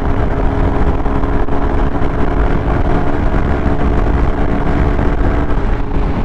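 A Honda SP 160 motorcycle engine runs steadily in fourth gear on a bumpy road, a continuous close engine drone with wind rush throughout.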